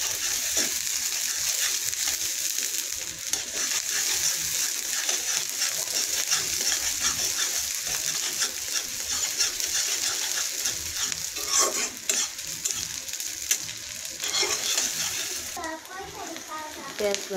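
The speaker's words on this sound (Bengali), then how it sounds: "প্রথমে সরিষার তেল দিয়ে দিলাম, তারপর পেঁয়াজ কুচি দিয়ে দিলাম। এটা ভালোভাবে ভেজে নিব।" Chopped onions sizzle and fry in mustard oil in a pan for chicken curry, a steady close crackling hiss with stirring scrapes, while a person talks over it.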